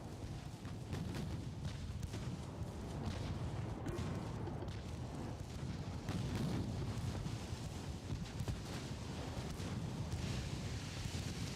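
Battleship guns firing high-explosive shells in the naval video game Ultimate Admiral: Dreadnoughts, heard as heavy, rumbling blasts blending into a continuous roar of booms and wind-like noise, loud and dense throughout with no speech.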